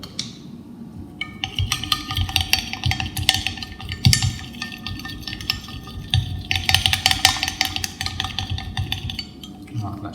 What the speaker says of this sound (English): we'll give that a nice big stir